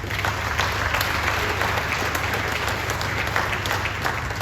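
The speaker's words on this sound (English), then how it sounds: "I think we need to give ourselves a round of applause." Steady applause from a crowd at a sports awards ceremony, many hands clapping continuously and fairly loud throughout, with no pauses or talking.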